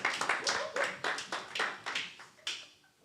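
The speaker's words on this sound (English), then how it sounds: "Please give her a round of applause." Sparse clapping from a small group at a ministry school, a handful of uneven claps that taper off near the end.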